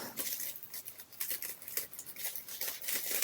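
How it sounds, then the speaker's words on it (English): Scissors snip through mesh nail foil in a quick, steady run of close, crisp cuts, with no talking. "So I'll cut some of that off."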